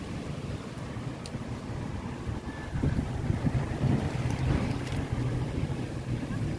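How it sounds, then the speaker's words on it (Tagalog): Strong wind blowing outdoors, a steady rumbling roar buffeting the microphone that grows louder and gustier in the second half, with no clear voices. "Lakas ng hangin."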